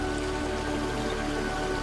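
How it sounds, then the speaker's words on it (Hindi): Heavy rain falls outside a house in a steady, dense hiss of drops. The sound is loud and even throughout, with no pauses. "बाहर फिर से भारी बारिश शुरू हुआ"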